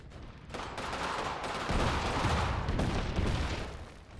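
Sustained gunfire and rumbling combat in the real-time strategy game Iron Harvest 1920 during a night raid, a dense, continuous wash of shots and blasts that keeps a steady level without distinct pauses.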